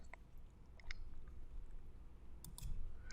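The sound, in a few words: computer mouse clicking to create a new folder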